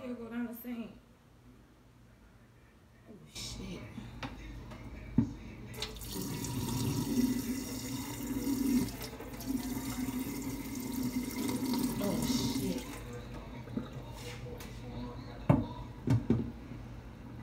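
Tap water runs into a sink in a steady splashing stream for several seconds, then stops, with a person talking nearby and scattered clatter around it.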